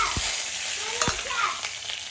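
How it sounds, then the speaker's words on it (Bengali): Green chillies and plenty of cumin frying in white oil in a kadai, a steady bright sizzle with a few spatula scrapes, close and loud. "কাঁচা লঙ্কাটা যা ভাজা হয়ে যাবে"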